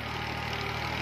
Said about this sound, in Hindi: अब हम ट्रैक्टर को फिर पहला हाई में लगाएंगे